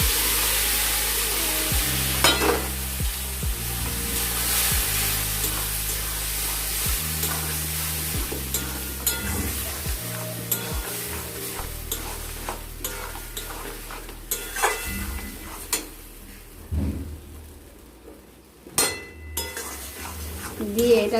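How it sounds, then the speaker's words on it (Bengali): Boiled moong dal with pumpkin being stirred through spices in a pan, with irregular spatula scrapes and knocks against the metal over a soft sizzle, close by, and a voice talking partway through. "দিয়ে এটাকে আমরা একটু নাড়াচাড়া করব মশলার সাথে"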